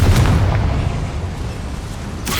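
In the Hogwarts Legacy video game, a Confringo spell goes off inside a goblin mine as a loud, deep explosive boom that rumbles and slowly fades, ending with a sharp pop.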